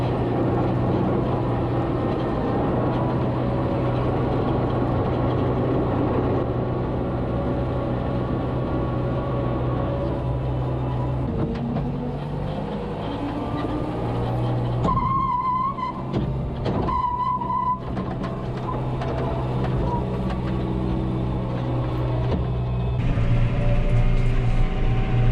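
A tractor engine drones steadily while driving with a manure spreader on a farm, with a constant low hum, mechanical rattles and clunks, and bumpy shifts in the middle, close and continuous throughout.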